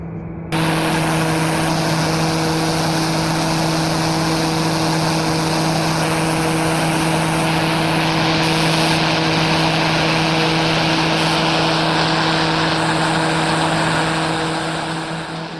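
A small propeller aircraft engine throttles up after landing, a loud close steady drone with strong tonal hum that holds for about fifteen seconds alone, with no voices.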